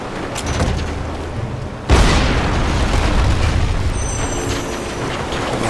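An explosion trap set off by a bell in the action-adventure game Lara Croft and the Temple of Osiris: a sudden loud boom erupts midway and rolls on as a sustained rumbling blast over the game's ambient background.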